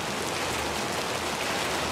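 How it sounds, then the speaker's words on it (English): Rain with small pea-sized hail comes down outdoors as a steady, dense hiss of drops with no breaks, fairly loud and close. "you should be able to hear it's starting to come down. It's got rain, we got some light, or some small hail."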